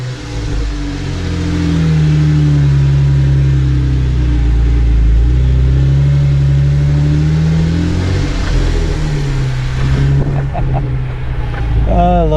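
An off-road vehicle climbs a steep trail hill near Margaret Lake, its engine giving a steady, loud low rumble that holds throughout with a slight change in pitch near the end.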